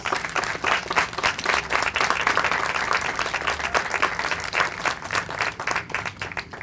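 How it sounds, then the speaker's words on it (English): Participants at a Relay for Life cancer society fundraiser give themselves a big round of applause, sustained dense clapping with some crowd noise, steady and fairly loud from start to finish. "Give yourself a huge round of applause."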